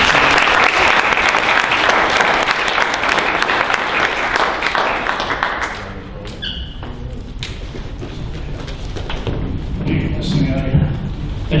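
A live audience at a County Alliance Project special presentation breaks into loud, sustained applause welcoming a speaker, with a dense wash of clapping that eases slightly partway through and carries a few thumps alongside.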